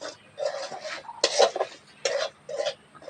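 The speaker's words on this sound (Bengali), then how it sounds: "কড়ার মধ্যে আমি সুজিটা দিয়ে দেবো। একটু নাড়াচাড়া দিয়ে নেবো" Dry semolina stirred in a hot kadai, several short scraping bursts of a spoon against the metal pan, close and fairly loud with pauses between strokes, no voices.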